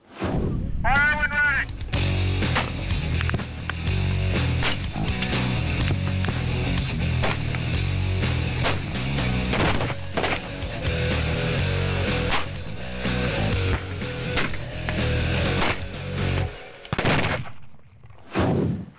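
Rifle shots and heavy booms ring out repeatedly as explosive-filled target boxes are hit at roughly 600 to 700 yards on a shooting range, a dense run of loud blasts and echoing reports.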